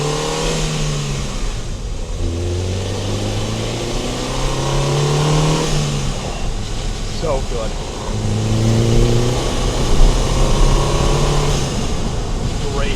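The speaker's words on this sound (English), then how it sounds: "Great blow-off noise." A Saab 9-3 Viggen's turbocharged engine revs in repeated rising pulls, each ending in a sharp hissing whoosh from the blow-off valve, recorded close in the engine bay, with someone talking over it.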